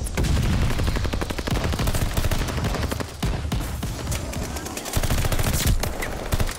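Rapid, sustained automatic gunfire in Call of Duty Vanguard multiplayer, loud and continuous with dense bursts and brief pauses, layered with overlapping shots and explosions of battle.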